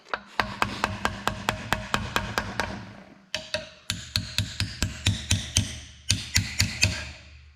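Steady hammer blows ring against the rear drum brakes of a 1966 Buick Skylark, struck in quick regular runs of about a dozen hits each with short pauses between bursts, loud and close.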